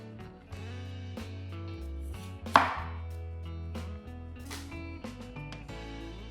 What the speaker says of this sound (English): Cut the ends of the bitter gourd.